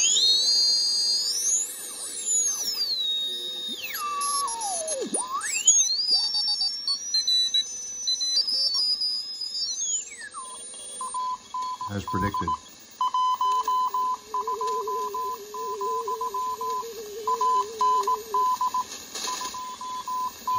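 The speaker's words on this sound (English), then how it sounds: "we'll start hearing CW signals." CW Morse code signals come through a direct-conversion receiver tuned to the 40 meter amateur band. Sweeping tuning whistles give way to steady keyed tones in rapid, precise dot-dash rhythm, faint against hiss. A brief spoken phrase is heard.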